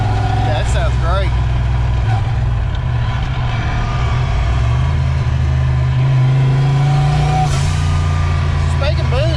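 A turbocharged Foxbody Mustang's engine and exhaust pull hard under acceleration, loud and close, with a deep, steady drone that swells. Voices talk over it throughout.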